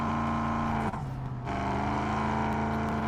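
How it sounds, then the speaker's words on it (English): A car in Drive Beyond Horizons with a big exhaust pipe drones steadily with a hollow, low engine tone that dips briefly and then resumes, held at a constant close level with no voices. "I love how the exhaust sounds. Like, yeah, that's definitely what it sound like with a big old pipe like that."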